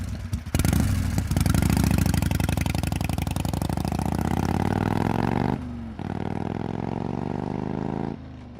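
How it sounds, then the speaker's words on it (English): Hagrid's huge motorcycle roars loudly and steadily as it pulls away, its engine note rising before dropping off abruptly and then holding a lower drone. "He climbs onto his huge motorcycle and disappears into"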